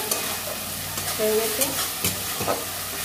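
Spice paste for a potato and eggplant curry stir-fries in hot oil, a steady close sizzle with intermittent scraping and stirring strokes against the pan, no talking.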